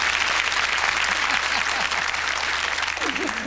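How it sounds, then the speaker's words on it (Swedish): A studio audience at a 1989 Swedish television entertainment show applauds steadily and loudly, a dense continuous clapping that fills the whole stretch, with a few voices and a brief vocal sound near the end. "Applåd"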